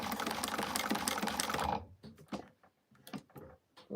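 A home sewing machine stitches steadily at full speed, then stops and gives a few short bursts of back stitching with clicks and handling noises in between.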